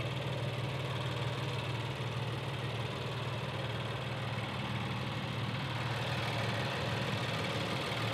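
A 2025 Infiniti QX80's 3.5-liter twin-turbo V6 idles with a steady, even low rumble and broadband hum, constant and unchanging throughout, heard close with no talking.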